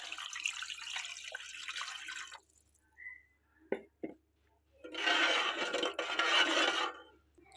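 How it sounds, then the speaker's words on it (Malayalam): Water poured into a cooking pot while making fish biryani, in two steady splashing pours of a couple of seconds each, separated by a few soft clinks of the vessel, close and fairly loud. "ഇതിലേക്ക് നമുക്ക് ഒരു 3 ഗ്ലാസ് വെള്ളം ചേർക്കാം."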